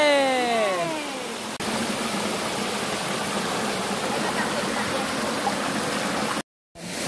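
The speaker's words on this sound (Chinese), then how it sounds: "山卡瀑布" Steady broadband rush of the Shanka (Golden) Waterfall in Laiyi, Taiwan, flowing continuously after a brief opening with whistling tones, with a short silent gap near the end.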